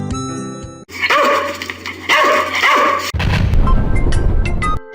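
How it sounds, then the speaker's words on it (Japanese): A dog barks a few times in quick succession, loud and close, as part of a children's animal sound sequence, followed by a different low rumbling animal sound. "犬。"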